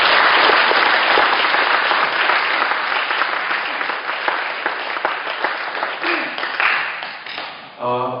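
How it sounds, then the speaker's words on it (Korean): A church congregation at a Korean revival service applauds warmly to welcome a pastor to the pulpit, a loud, dense wash of many hands clapping that holds steady, then thins and fades near the end as a voice begins. "여러분들 우리 거성 목사님 나오실 때 뜨거운 박수로 환영해 주시기"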